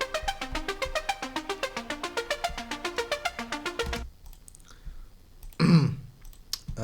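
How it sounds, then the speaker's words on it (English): Saw-wave synth chords broken into a fast, even arpeggio by a MIDI arpeggiator, rippling steadily for about four seconds before cutting off, followed by a brief clatter and a short burst of noise. "they are getting arpeggiated by this MIDI device arpeggiator"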